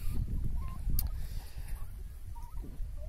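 Turkeys make a few short, scattered calls over a low, rumbling background, fairly close but not loud.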